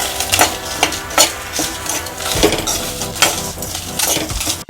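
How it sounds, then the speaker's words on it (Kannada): Coconut and masala being dry-roasted in a pan, with a spatula scraping and clinking against the metal in an uneven rhythm of close, sharp strokes over a faint background sizzle, no talking. "ತೆಂಗಿನಕಾಯಿ ಎಲ್ಲ ಇದು ಮಸಾಲೆದು ಇದೆಲ್ಲ ಹಾಕಿ ಕೆಂಪಗೆ ಹುರಿಬೇಕು."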